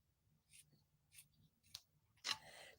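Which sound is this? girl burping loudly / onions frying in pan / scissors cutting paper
scissors cutting paper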